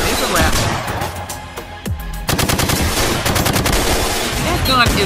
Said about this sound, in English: That gun is loud as fuck.